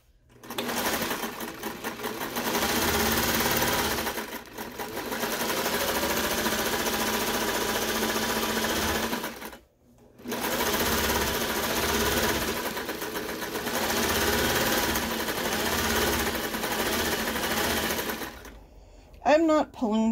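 Sewing machine running long gathering stitches for a poet shirt made from bedsheets, loud sustained bursts broken by two short stops, with a voice heard at times.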